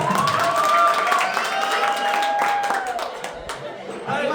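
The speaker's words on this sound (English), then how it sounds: "Huge round of applause for Kikani sir" Audience applause welcoming a guest at a magic show, sustained clapping and crowd noise running steadily under a speaking voice, with cheering mixed in and a slight dip before picking up again at the end.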